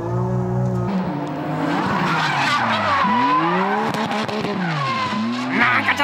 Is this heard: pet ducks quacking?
no